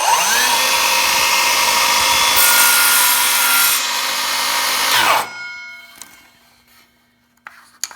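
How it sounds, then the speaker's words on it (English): A table or miter saw blade spins up loud and steady to trim a sliver off a wooden miter joint, a dense whirring cut lasting about five seconds before winding down into near silence with a few small knocks. "I'm going to raise the blade and start it spinning"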